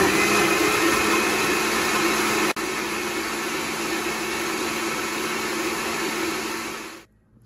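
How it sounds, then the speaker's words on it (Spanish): A blender liquefying tomato, a piece of onion and a pinch of cumin for chicken broth, a loud steady whirring roar that briefly dips once and then winds down to a stop near the end. "Y pues lo voy a licuar."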